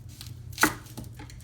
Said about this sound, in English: basically the way I do my onion is to just cut off both ends